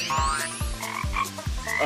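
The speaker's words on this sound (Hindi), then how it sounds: "मेंढक!" A frog gives four deep, rhythmic croaks at a steady pace, loud and close over a busy cartoon-style background with a rising whistle-like tone.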